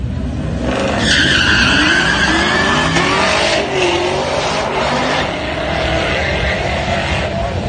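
A Chevrolet Camaro ZL1 launching at a drag strip spins its tires. A loud, sustained screech rises over the revving engine, close by and continuous, with no one speaking.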